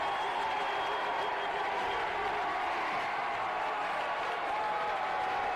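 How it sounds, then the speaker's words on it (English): A high school boys basketball crowd in an Indiana gym roars and applauds after a three-pointer, a dense sustained wall of cheering and clapping that stays loud and even throughout. "And the crowd goes nuts."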